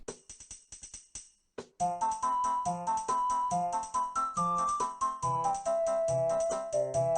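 A theme from a Zelda game: a bouncy, plucky melody with staccato bell-like notes over a steady bass pulse, playing alone after a short intro and a brief pause.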